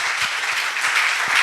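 A church congregation breaks into steady, loud applause, many hands clapping together in a dense, continuous patter that fills the room with no voices on top.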